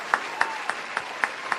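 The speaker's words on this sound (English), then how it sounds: "Give you a round of applause for your" A live-stream audience gives a round of applause: a handful of evenly spaced, fairly light claps repeat in a steady rhythm over a constant background hiss.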